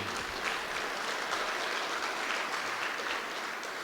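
An audience applauds at a Jefferson County State of the County address, a steady wash of clapping from a crowded hall that stays even from start to finish.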